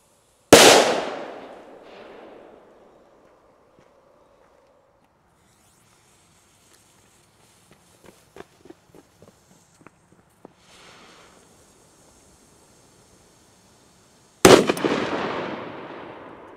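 A loud, sharp bang from small 1.1-gram P1 firecrackers, then a run of smaller crackling pops in the distance, and a second loud bang to finish.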